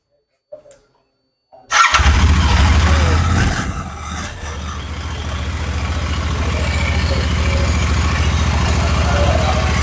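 A used Royal Enfield Classic motorcycle at a second-hand bike market in Chennai: a few faint clicks, then the engine fires up loudly, revs briefly and settles into a steady, close, thumping idle.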